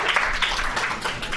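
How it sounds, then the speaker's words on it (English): An audience gives a round of applause, brisk dense clapping at steady volume throughout a short burst. "give Shauna a round of applause"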